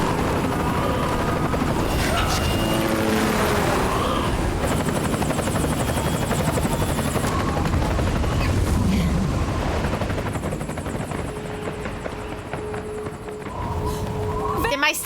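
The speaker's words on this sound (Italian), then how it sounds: "Siete mai stati su un elicottero aperto?" Metal Gear Solid 4 helicopter, a loud continuous rotor thump and engine roar dominating the scene, with game voices, clattering effects and muffled bangs mixed in, easing off slightly near the end.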